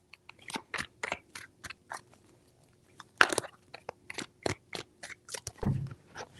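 Tarot cards being shuffled, a run of short crisp riffling bursts in irregular rhythm, close and fairly quiet, with a longer rustling flurry near the middle and another toward the end.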